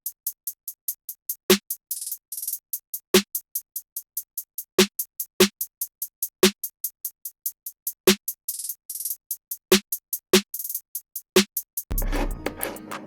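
A programmed hip-hop beat of crisp, rapid hi-hat ticks in a two-step pattern with a couple of quick rolls, punctuated by sharp snare hits at a steady tempo, ending in a brief burst of denser sound.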